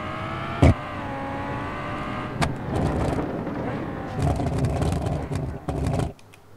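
A Lamborghini Huracan Performante in the BeamNG.drive driving game winds down through decelerations, its engine tone falling in steady sweeps broken by sharp pops and crackles, loud and close throughout.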